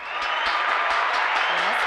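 A studio audience applauds and cheers to welcome a rapper, a dense, loud wash of clapping that swells in and holds steady, with a voice briefly audible over it.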